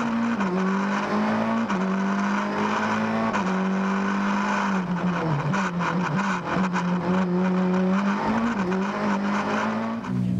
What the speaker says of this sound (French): Peter Schoen au départ pour le deuxième fois avec sa Peugeot 208 T16